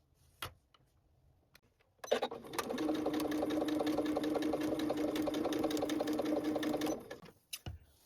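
A sewing machine stitches the diagonal sides of clutch bag flap pieces, running steadily for about five seconds with a rapid mechanical rhythm, preceded and followed by a few handling clicks.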